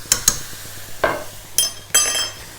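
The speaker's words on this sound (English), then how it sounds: "Stir this through, and then this is our beef gravy" A spoon stirs Worcester sauce into beef gravy for cottage pie, giving several loud, separate metallic scrapes and clinks against the pan in uneven bursts, with quiet gaps between them.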